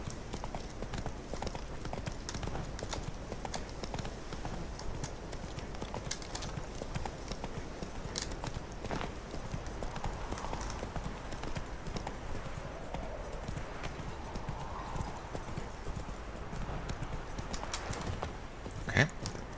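Roach, a horse in The Witcher 3 video game, trotting with a steady rhythmic clip-clop of hooves over a continuous background of ambient game sound, held evenly throughout.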